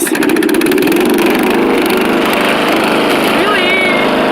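A riding lawn mower engine runs loud and close in high gear, holding a steady, rough mechanical drone throughout, with a brief voice-like whoop near the end.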